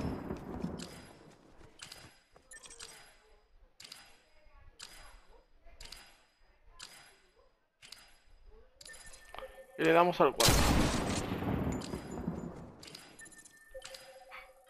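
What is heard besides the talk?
gunshots in the video game Fortnite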